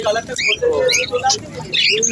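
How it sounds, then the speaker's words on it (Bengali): Fancy pigeons of the Paltan and Lotan breeds call at a bird market in Serampore, with short chirps and soft coos rising over the busy murmur of people talking nearby. "এই পায়রা কি কি আছে?"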